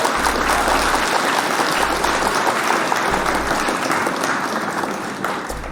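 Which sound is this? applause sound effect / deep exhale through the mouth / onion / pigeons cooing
applause sound effect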